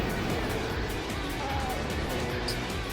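Racing cars, among them a TVR Griffith and a Mazda RX-7, drive past in the Gran Turismo 4 video game, a constant engine drone and roar of passing traffic at moderate volume beneath a commentator's voice.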